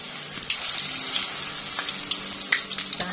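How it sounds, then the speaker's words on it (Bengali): Egg potato chops frying in a pan for iftar, a steady close hiss of oil with small crackles and pops throughout, no talking. "এখন ফ্রাই হচ্ছে"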